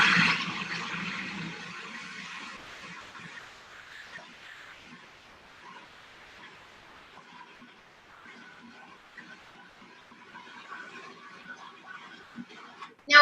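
Water poured from a cup through the feeder tube of a food processor, a soft continuous splashing trickle that fades over several seconds, followed by faint scattered clinks and small kitchen noises.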